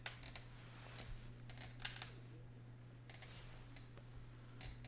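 Glass cutter (Silversnit 4000) scoring a steeply curved pattern into a glass sheet: faint, sparse scratchy clicks and brief bursts over a steady low hum, close and quiet.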